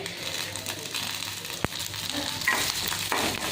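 Chana dal, urad dal and green chillies frying in ghee with mustard seeds, giving a continuous close crackling sizzle broken by one sharp click partway through, with no talking.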